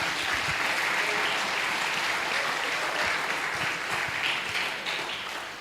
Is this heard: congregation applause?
yes